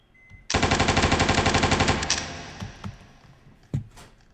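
Sustained burst of rapid automatic gunfire in a shooter video game, about a second and a half of dense rattling shots that trail off, followed by a few scattered thuds and a single sharp shot.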